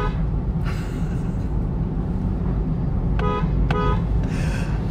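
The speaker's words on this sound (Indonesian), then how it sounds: "Nah sekarang kita coba klaksonnya" Two short honks from the horn of a Nissan Z Nismo sound in quick succession, clear against a steady low idle rumble.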